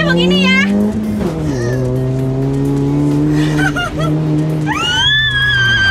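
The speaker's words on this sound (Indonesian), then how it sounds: "Gua mau manasin ban dulu ya." A Honda Type R nicknamed Baby Type R revs hard while spinning its tyres to heat them, with loud engine pitch sweeps and tyre squeal under excited voices talking throughout.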